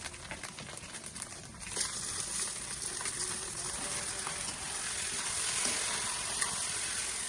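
Khichuri rice frying in a pan after chili paste and onion-garlic paste go in, a steady close sizzle with scraping stirs throughout, getting slightly louder toward the end, no talking.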